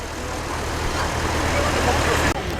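A 1966 Ford Thunderbird rolls into a classic car show at Wem, its steady low engine rumble blending with broad outdoor roadway noise, continuous and fairly close throughout.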